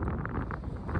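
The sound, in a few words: wind at Tuktoyaktuk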